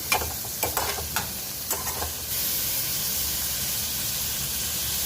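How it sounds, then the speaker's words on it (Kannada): Onion and tomato frying in oil for a stuffed brinjal palya, with a few sharp stirring clatters at first, then a steady, close sizzling hiss that fills the rest. "ಈರುಳ್ಳಿ ಟೊಮೊಟೊ ಈ ಎಣ್ಣೆದಾಗೆ ಫ್ರೈ ಮಾಡ್ಕೋಬೇಕು"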